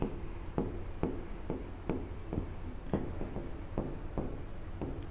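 A pen scratches out a chemistry formula by hand in a run of short, close strokes and taps at an uneven rhythm over a soft background hiss, with no one speaking.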